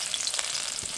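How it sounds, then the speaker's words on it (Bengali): Chopped garlic hitting hot oil in a wok gives a dense, steady hiss of frying, close and continuous through a brief moment, with no voices. "এখন তেলের মধ্যে দিয়ে দেবো রসুন কুচি"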